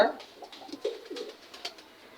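A pair of racing homer pigeons coo softly nearby in a few low, throaty, burbling phrases, faint and intermittent against a quiet background.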